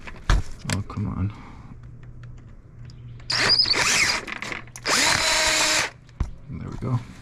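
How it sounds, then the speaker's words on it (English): A handheld power drill enlarges a hole during work on a Lexus ISF supercharger install, firing in two loud whirring bursts of about a second each between clicks, handling noises and a few spoken words. "I have my handy dandy drill"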